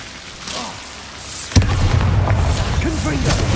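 A Bombarda blasting spell in Hogwarts Legacy detonates with a sudden loud boom partway through, followed by a rumbling roar and scattered crackling debris over ongoing game noise and a voice.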